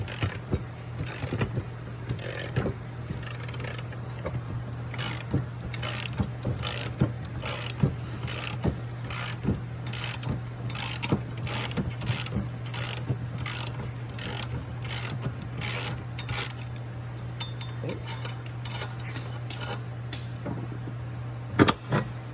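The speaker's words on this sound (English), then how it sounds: "we're going to use our ratchet. We have the blade held in place, and we're just going to turn our mounting nut off." A hand ratchet clicks rapidly and steadily while turning a lawn mower blade mounting nut off its spindle, close and fairly loud over a constant low hum, with no talk.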